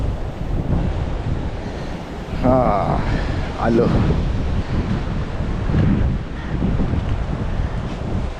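Sea waves roll and wind buffets the microphone at Bhandarpule beach, a loud continuous roar of surf with gusty rumble, while people briefly talk over it.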